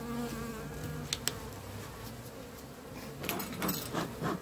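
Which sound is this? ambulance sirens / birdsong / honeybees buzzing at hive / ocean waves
honeybees buzzing at hive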